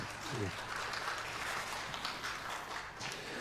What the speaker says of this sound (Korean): 네, 우리 한 번 더 뜨겁게 박수 한번 부탁드리겠습니다.